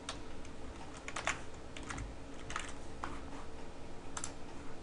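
Computer keyboard typing in a quiet room, a short run of light, irregular key clicks scattered over a few seconds, close and soft with no voices.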